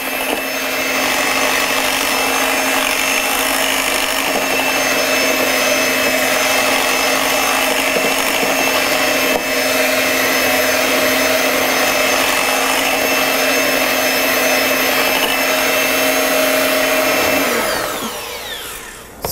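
An electric mixer blends cheesecake batter in a bowl with a loud, continuous motor whine and steady hum that runs unbroken for a long stretch, then winds down and stops near the end.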